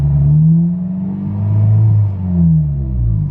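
A car engine, just restarted after earlier trouble, runs close by with a loud, steady low rumble that swells and eases slightly as it idles. No voices are heard.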